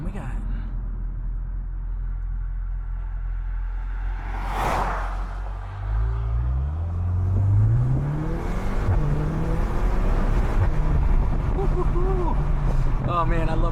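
A Volkswagen MK8 Golf R drives along with a steady engine drone and road and wind noise, the engine pitch rising as it accelerates, with someone talking over it.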